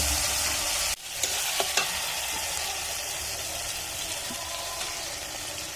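Meat added to hot spiced oil in a pan, a sudden drop and then a close, steady sizzle with stirring clatters and scrapes, frying continuously without voices.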